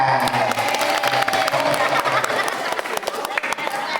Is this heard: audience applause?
yes